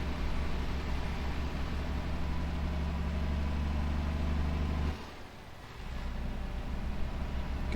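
Inside a Kenworth truck in the game American Truck Simulator, an older Caterpillar 3406A diesel drones steadily, low and continuous. It dips briefly near the middle, as if from a gear change or easing off the throttle, then resumes.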